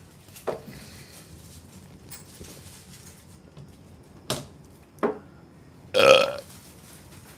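A single loud, raspy burp forced on command stands out after a few soft clicks and taps, close and brief.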